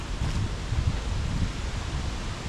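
Strong gusts of wind sweep through an outdoor creek park, a steady low roar with rustling, buffeting the microphone continuously for a couple of seconds, no voices.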